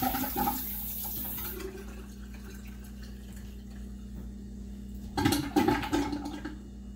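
Water running from a tap for a quick hand rinse, a steady rushing splash with a sharper burst of water near the end of the rinse.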